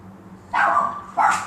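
A pet dog indoors barks twice in quick succession, loud and close, with a short gap between the two barks.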